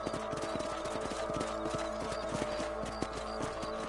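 Horse hooves gallop in a rapid, steady rhythm across open ranch ground in Red Dead Redemption, up close and continuous, with no talking over them.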